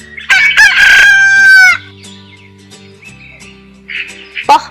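A cartoon rooster in an animated folk tale about a hen saving the rooster's life gives one loud, drawn-out cock-a-doodle-doo at the start, followed by quieter clucks and a soft music bed.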